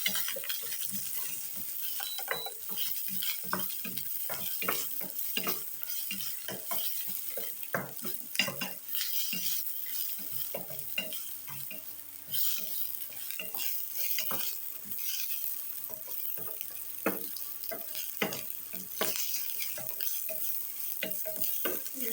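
Chopped onions sautéing in a pan for a drumstick-leaf stir-fry, with a steady sizzle and a spatula scraping and tapping the pan in a busy, continuous rhythm.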